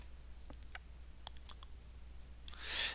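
Computer mouse clicks while working in an OnlyOffice spreadsheet: a few sharp, quiet clicks spaced irregularly over a low steady hum, ending in a soft brief hiss.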